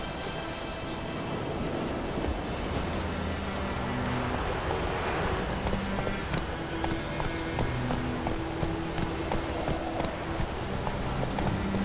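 Gusty wind and stormy weather in the video game The Witcher 3 at dusk, a steady broad rush that fills the whole clip, with faint clopping of a horse and low tonal game sounds mixed in, no talking.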